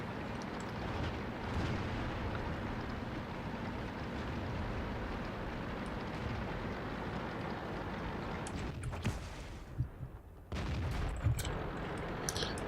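Artillery shells bursting near a tank in World of Tanks, heavy rumbling blasts over a constant engine drone, with a sharper crash and sudden dropout near the end followed by further impacts.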